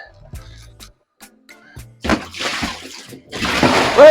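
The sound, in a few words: water draining from air exchanger tub after pulling drain plug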